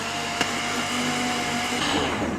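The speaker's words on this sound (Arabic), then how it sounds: "نقفل كده الخلاط ونشغل كده بسم الله" A kitchen blender whirs steadily while blending chocolate sauce with oil, a loud continuous motor drone holding an even pitch throughout with no talking.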